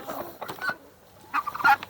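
A mixed backyard flock of laying hens with a rooster clucks in short, scattered bursts at moderate distance, with a quieter gap between a first cluster of clucks and a louder later cluster.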